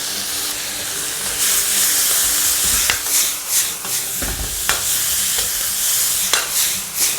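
Vegetables stir-fried in a wok over high heat, a loud continuous sizzle and hiss with repeated scraping tosses of a spatula against the metal, close and steady.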